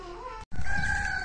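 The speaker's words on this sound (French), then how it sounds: "On entend les poules et les coqs qui crient." A rooster crows in a garden, a short, loud, close-up call, its drawn-out tone briefly broken by a cut, with hens faintly audible behind.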